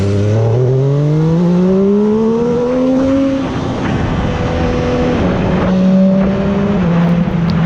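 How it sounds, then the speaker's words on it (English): A motorcycle accelerates hard on a group ride, its loud engine note climbing steadily in pitch, easing briefly, then pulling again close up under strong wind rush. "This bike was made for riding fast, not 40 kilometers per hour"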